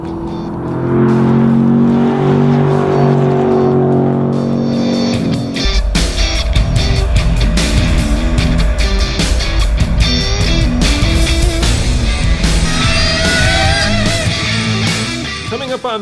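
Chevy Camaro SS on a race track, its engine rising from a steady drone into a loud, sustained roar with revving surges and gear changes, heard up close.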